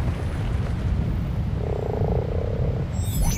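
A Beelzebufo frog croaks in ARK: Aberration, a steady low buzzing croak standing out briefly over a constant rumbling game background.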